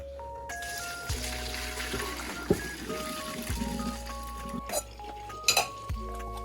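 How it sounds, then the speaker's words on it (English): Cooked spaghetti is drained in a kitchen, with sharp clinks and clanks of a metal pot and utensils over a faint trickle of water, the knocks scattered and fairly close. "we're gonna go ahead and drain our spaghetti"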